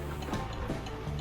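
Hazard lights on a Volvo truck in American Truck Simulator tick in a steady rhythm, about three clicks per second, heard alone at moderate level inside the cab.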